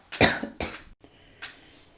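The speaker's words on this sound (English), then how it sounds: "I'm going to cough" A few harsh coughs close by: two strong bursts in quick succession, then a softer one after a short pause.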